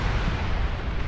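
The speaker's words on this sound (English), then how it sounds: "I love the explosions" Massed explosions from a large battle in the real-time strategy game Beyond All Reason form a dense, continuous rumbling boom lasting about a second.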